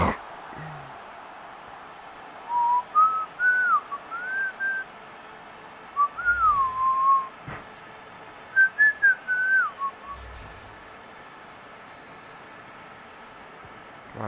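A person whistles three short wavering melodic phrases, clear and close, separated by pauses, over a steady hiss, with a couple of faint low thumps in between.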